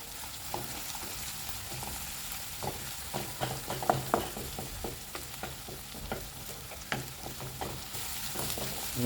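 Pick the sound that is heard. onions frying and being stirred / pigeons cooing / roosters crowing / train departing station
onions frying and being stirred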